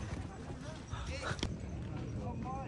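Horses' hooves clip-clop at a horse parking area near Mount Bromo, a quick irregular patter of hoof hits beneath people talking nearby.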